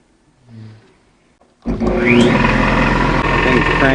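A Harbor Freight 3hp compressor head fitted to a Sears air compressor starts up after a quiet moment with a faint voice, then runs loud and close with a steady mechanical clatter.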